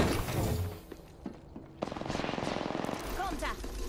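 Automatic gunfire in the shooter game Apex Legends, with rapid bursts and fusillade-like cracks running through most of the moment, fairly loud and dense, louder after the midpoint, and a voice partly mixed in.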